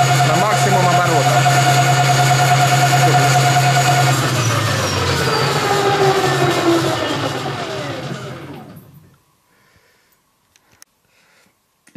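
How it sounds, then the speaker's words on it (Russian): A 1000W 60V electric hub motor, driven as a generator, spins at full revs with a loud, steady whine and hum that slowly drops in pitch as it winds down, then fades to near silence. "Ну давай на все обороты."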